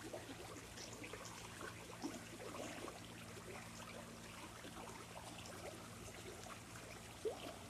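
Clean creek water flowing and trickling outdoors as a faint, steady wash with no voices.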